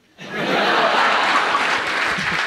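A stand-up comedy audience breaks into applause, bursting in abruptly after a brief silence and holding as dense, loud, sustained clapping from a sizeable crowd.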